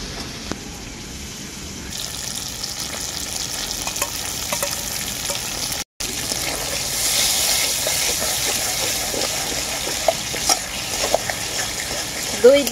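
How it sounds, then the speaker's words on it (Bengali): A fried spice paste is stirred with sour yogurt in a pan for a vegetarian aloo dum, giving continuous close sizzling and frying with repeated scraping strokes, briefly cut by a short gap. "টক দইটা দেওয়ার পরে আমি খুব ভালো করেই নাড়াচাড়া করে নিলাম"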